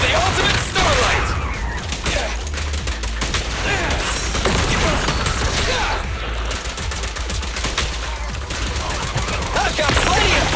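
Dense, rapid gunfire rattles almost nonstop in the action game Zenless Zone Zero, packed with loud bursts and impacts under layered game sound and occasional voices.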